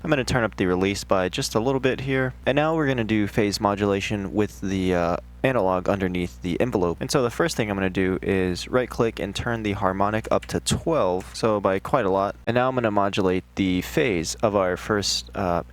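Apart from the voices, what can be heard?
No everyday noise stands out behind the speech.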